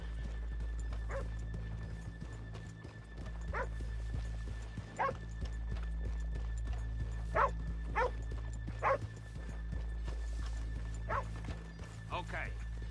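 Horses moving about in Red Dead Redemption 2, with repeated hoof clops and occasional snorts or whinnies over a steady low ambient hum, while people talk throughout.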